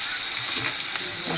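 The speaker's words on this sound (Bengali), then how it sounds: "এবার এর মধ্যে আমি দিয়ে দিচ্ছি ক্যাপসিকাম।" Capsicum sizzles and fries loudly and steadily in a hot pan for egg chow mein, a continuous close hiss with faint stirring.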